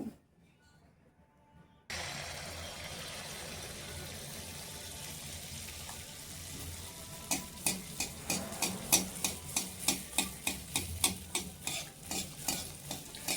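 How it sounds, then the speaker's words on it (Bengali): Poya pitha made from a thick urad dal batter fry in hot oil, a steady sizzle after a brief quiet start, then a run of sharp rhythmic scraping taps from a utensil in the pan. "তো এইভাবে আমি প্রত্যেকটি পিঠে ভেজে নেব।"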